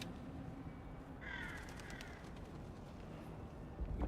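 Crows caw in Little Nightmares III, a short run of harsh calls heard at middle distance over a steady dim game ambience.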